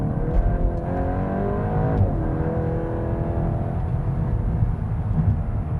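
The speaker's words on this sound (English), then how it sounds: "Oh, it makes quite a nice noise." Volkswagen Golf GTI Clubsport 45 engine revving under acceleration while driving, a loud steady rising drone with a brief dip at a gear change, heard from inside the car with no voices.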